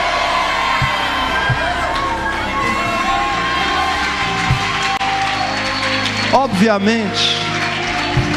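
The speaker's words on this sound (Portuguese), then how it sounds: "Quantos pode dar um grito de glória exaltando o nome dele?" A church congregation erupts in a sustained roar of shouts and cheers of praise, dense and loud throughout, with rising whoops and high voices swelling near the end.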